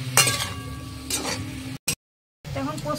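Fish being stirred in a bowl with salt and turmeric: soft wet squelches and light clinks against the bowl, close and brief, with a short silent gap before the stirring resumes.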